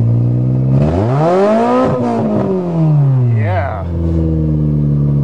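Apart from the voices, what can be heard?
Toyota car engine revving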